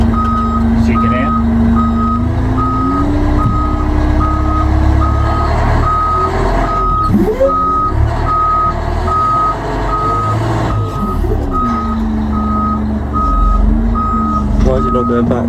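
A heavy-haulage truck is in reverse, its loud steady reversing beeper sounding at an even rhythm over the low rumble of the idling diesel engine.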